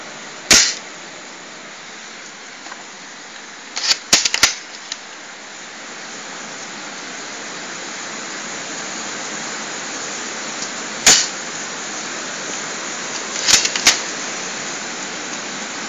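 A Cybergun spring-powered FAMAS G1 airsoft rifle fires several sharp, close snaps, one early and then small clusters spaced over the clip, while steady outdoor rain hisses underneath.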